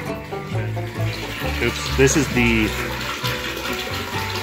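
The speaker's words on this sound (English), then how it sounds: "we're gonna be flushing the tank out continuously for a little bit" Running water flushes out a well water tank fed by a solar-powered pump. The steady rush and splash carries on throughout, with a person talking over it.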